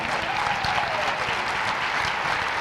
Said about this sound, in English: Let's give a round of applause to my friend, Emmy.